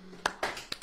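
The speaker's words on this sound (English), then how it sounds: "Wherever you are, clapping." A few sharp hand claps from a church audience, sparse and uneven, three or four distinct smacks within under a second over a quiet background.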